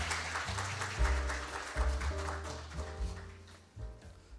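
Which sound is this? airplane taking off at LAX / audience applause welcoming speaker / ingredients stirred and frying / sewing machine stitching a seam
audience applause welcoming speaker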